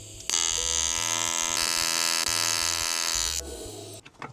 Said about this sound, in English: I took the offcuts I made on the bandsaw, cleaned them up, and tried to weld them together.